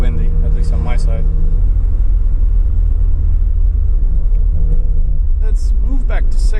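A Mazda RX-7 exhaust while driving gives a low, steady rumble with a droning engine note throughout, and brief voices chime in near the end.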